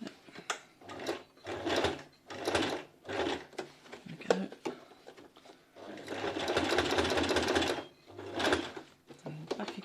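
A sewing machine slowly stitches through thick fabric for a bottle carrier, rapid mechanical needle bursts coming in short runs with brief pauses and one longer continuous stretch, close and clear, with no talking.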